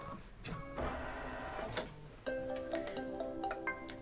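Embroidery machine stitching the final stitches of an in-the-hoop pizza slice mug rug, a fast mechanical ticking and whirring with short pauses, close and steady, with music playing alongside.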